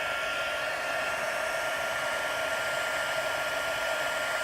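A heat tool blows a constant, even airy whoosh while melting embossing powder on a card, steady and unbroken throughout with no voices.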